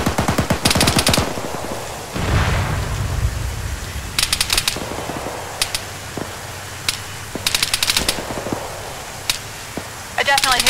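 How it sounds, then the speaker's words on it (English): Machine gun fire from a BTR armored vehicle in the video game Arma 3, loud bursts of rapid shots repeating in short volleys with pauses between them, with radio chatter and talk in the background. "That BTR is directly engaging me."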